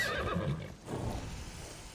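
A horse neighs in Assassin's Creed Odyssey, a clear, loud whinny up close, fading into soft background game sound with no talk over it.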